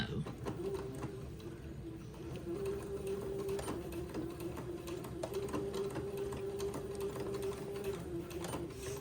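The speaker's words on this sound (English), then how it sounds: "I'm going to sew back and forth on top of the elastic and tack it into place on this end also" A sewing machine runs a steady, rapid stitching rhythm while tacking elastic in place on a baby raglan garment, close and continuous for the whole stretch, with a faint voice in the background.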